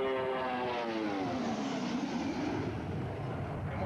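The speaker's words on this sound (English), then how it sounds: "So here it comes in for its final pass," A warbird propeller plane makes its final low fly-past along the runway at an air show, a loud droning engine roar with a sweeping pitch shift as it passes close by.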